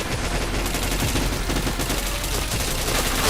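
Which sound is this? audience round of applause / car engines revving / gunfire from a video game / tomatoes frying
gunfire from a video game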